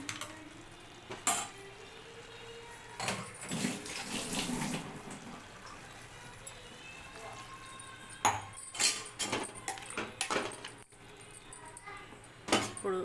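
Water runs and splashes into a pan of bottle gourd curry for several seconds, with clinks of metal cookware before and after the pour, close up.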